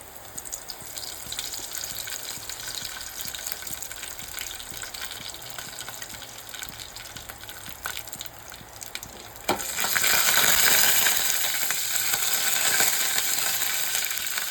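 Curry leaves hit hot oil already crackling with urad dal and dried red chillies, a moderate frying sizzle that suddenly swells into a louder, brighter spitting burst partway through and stays high.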